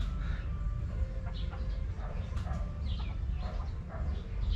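A chicken clucking outdoors in short scattered calls over a low rumbling background, moderately close.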